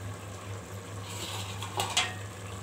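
Chicken biryani being stirred in a pot, with soft scraping and a couple of light metallic clinks of a spoon against the pot over a steady low hum, close and fairly quiet.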